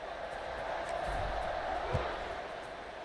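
A stadium crowd in a college football video game, Kansas versus BYU, a faint steady murmur and roar of fans that swells slightly midway, heard quietly on its own.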